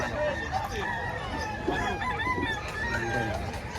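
Several chickens cluck and squawk nearby on a farm, with a rooster crowing amid the flock and a few voices murmuring in the background.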